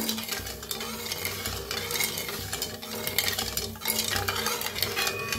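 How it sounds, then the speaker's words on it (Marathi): A spoon stirs sugar and water in a pan as syrup forms for gulab jamun, with continuous scraping and clinking against the metal and a faint sizzle underneath, close and steady. "हलवत राहायचं म्हणजे साखर विरघळूस तर हलवून पाक बनवून घेऊया आपण"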